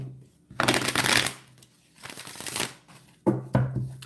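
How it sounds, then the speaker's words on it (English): A deck of tarot cards being shuffled in quick riffling bursts, three separate rounds with short pauses between, close and crisp. "I'm shuffling right now."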